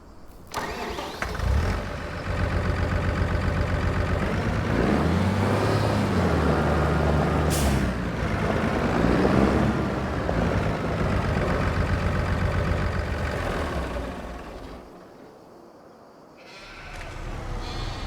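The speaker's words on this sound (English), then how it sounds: "This tractor is a little bit bigger than the Ford." A JCB tractor on a Minecraft-style farm sim runs steadily with a droning mid-pitched engine, revving and shifting tone, loud and close, then briefly dropping away near the end; no talking.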